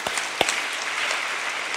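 A church congregation claps together in a brief burst of applause, a dense patter of many hands with a couple of sharper claps standing out, steady and fairly close.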